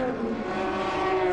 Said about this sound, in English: Lovely noise the BMW makes.